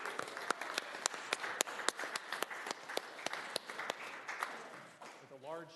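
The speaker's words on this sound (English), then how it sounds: "large cheering crowd." Clapping at a Riverton City council meeting as a child is honored: a sparse, regular run of distinct hand claps from a small group, fairly close, with a voice speaking briefly at the end.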